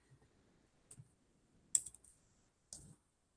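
A few sparse, quiet key clicks on a computer keyboard while typing into an online graphing calculator, with short pauses between the taps and no talk.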